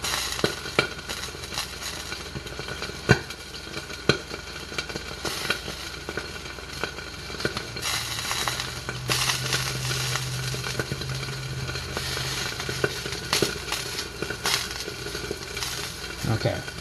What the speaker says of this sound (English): We got a good sizzle going on over here.